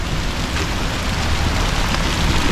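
Dense rain falls hard and close in a steady hiss during a thunderstorm outdoors, loud and unbroken with no distinct thunder or voices.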